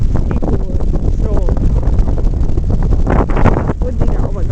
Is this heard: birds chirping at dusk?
no